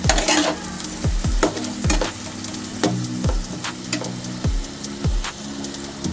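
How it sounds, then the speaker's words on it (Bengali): Ginger garlic paste sautéing with a splash of water in a pan, a hiss of frying broken by repeated scraping knocks of a spoon against the pan at an uneven pace, loud and close, no speech. "জল দিয়ে এবার ভালো করে একটু কষিয়ে নেবো যতক্ষণ না কাঁচা গন্ধটা চলে যাচ্ছে আদা রসুনের।"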